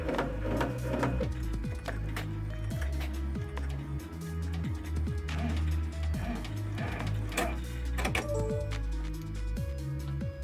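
An embroidery machine stitches a base layer onto T-shirt material, running loud and close with a fast, steady mechanical chatter of needle strokes and gear clicks.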